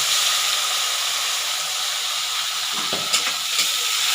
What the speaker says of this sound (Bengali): মিক্সির মধ্যে কাঁচা লঙ্কা রসুন আদা আর হাফ গোটা পেঁয়াজ দিয়ে যে পেস্টটা করে রেখেছি ওই পেস্টটা দিয়ে দিলাম